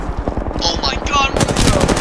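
Rapid automatic gunfire in the battle royale game Apex Legends, loud bursts rattling continuously with voices talking over the shots.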